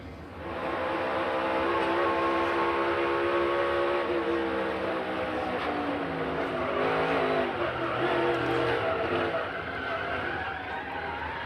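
A NASCAR stock car engine at the Drydene 400 picks the throttle back up as the car slides sideways down the banking. The engine note roars loud and continuous, its pitch wavering and climbing.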